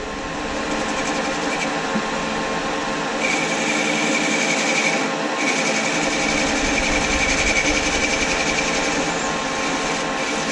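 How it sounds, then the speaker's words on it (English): A metal lathe runs steadily after being switched on, giving a loud, continuous mechanical whine and hum that holds even for about ten seconds. "Okay, I'm gonna turn this on, and we're gonna see what the lathe does."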